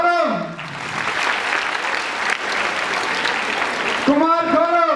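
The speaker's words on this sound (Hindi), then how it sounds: "जोरदार तालियां मार के स्वागत करते हैं मेरा छोटा भाई कुमार गौरव" An audience at an event gives loud, sustained applause to welcome a performer. Hearty clapping runs for several seconds between stretches of a voice at the start and end.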